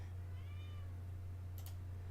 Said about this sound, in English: what yells at the door? Cat screams.